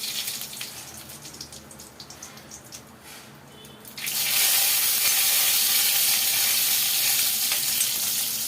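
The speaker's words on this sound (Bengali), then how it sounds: "শুকনো লঙ্কা ফোড়ন" Dried red chillies hit hot oil in a wok for a tempering. After a few seconds of quiet clatter, a loud, dense, steady sizzle suddenly erupts and continues strongly.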